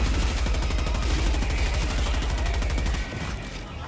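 An automated sentry turret in the co-op shooter Helldivers fires continuously, a loud, steady stream of rapid shots that holds for about three seconds and then drops off, with gameplay noise around it.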